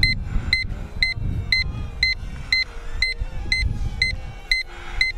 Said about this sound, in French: ma radio qui bip pour me dire que j'ai atteint la fin de batterie